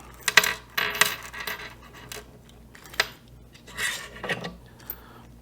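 Small metal screws and a washer from a nightstand hardware kit clink and tap as they are handled, giving sharp, light, scattered clicks and a few rubbing scrapes, close up and fairly quiet, without speech.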